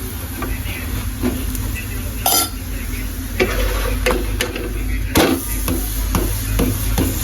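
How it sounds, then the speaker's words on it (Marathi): A sabudana paratha roasts in ghee on a pan, giving a steady sizzle broken by sharp spatula taps and scrapes at irregular intervals. "व्यवस्थित भाजून घ्यायचं"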